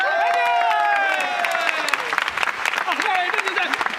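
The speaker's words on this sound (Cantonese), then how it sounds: "OK，好，我哋俾啲掌聲兩位先啦。" A studio audience at a televised anniversary gala claps for two guests. Loud laughter and voices ride over the start, then give way to crisp, scattered handclaps mixed with lingering chatter.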